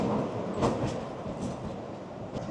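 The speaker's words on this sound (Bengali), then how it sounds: "এই পাইনের জঙ্গলের মধ্যে দিয়ে ট্রেন যাচ্ছে" Shivalik Deluxe Express train climbing the Kalka–Shimla mountain line through pine forest, a steady rumbling roar heard from inside the carriage with faint rhythmic clicks of the wheels.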